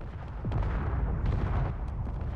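A MAC cannon fires in the Space Engineers game, a heavy booming blast that rolls on with rumbling impacts and debris, loud and close, with no talk.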